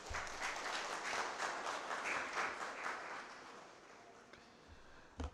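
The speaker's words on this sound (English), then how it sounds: "I want you to give yourselves a round of applause" Students at a Carnegie Mellon University orientation applaud, a moderate burst of crowd clapping that thins and fades over several seconds, heard from some distance.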